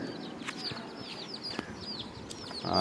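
Several native country chickens cluck and chirp softly in quick, scattered calls, with a few sharp clicks and a rustle rising at the end.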